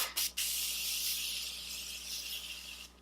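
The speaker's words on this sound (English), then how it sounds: "now I'm going to set my face with the Morphe Continuous Setting Mist Setting Spray." A Morphe Continuous Setting Mist setting spray sprays onto a face as one steady, close, soft hiss lasting nearly three seconds, after two quick short bursts at the start, with no talking.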